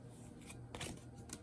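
Oracle cards are shuffled in a few quick, faint papery bursts, close but quiet.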